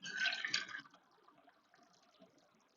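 Water pours into a mixing bowl for an organic cranberry bread dough, a brief splashy rush at the start that fades quickly into faint trickling and dripping.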